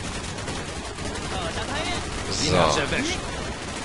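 Enemy gunfire in a Call of Duty Black Ops battle: rapid automatic bursts crackle over a constant din of combat noise, building to a louder volley near the middle, while someone speaks briefly.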